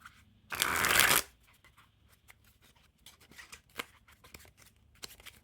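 Pink Panther Fontaine playing cards riffle shuffled, a single loud, close burst of fluttering card riffle lasting under a second, then quieter taps and soft handling clicks as the deck is squared.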